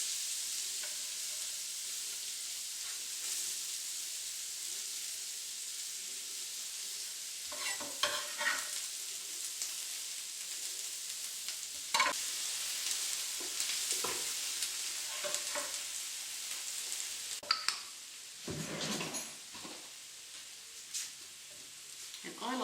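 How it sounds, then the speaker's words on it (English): Chopped onions for lasagna sizzle in a hot pan with a steady, fairly quiet frying hiss, broken now and then by louder bursts of stirring and scraping. "So add your chopped onions."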